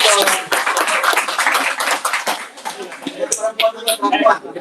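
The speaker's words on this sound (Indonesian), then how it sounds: "Saya tepuk tangan dong biar semangat dong" Students in an audience at a motivational talk clap their hands, a dense run of quick overlapping claps that thins out, while people keep talking throughout.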